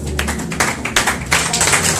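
A church congregation clapping and applauding during a Sunday service, a loud, close, irregular patter of many hands with rhythmic bursts.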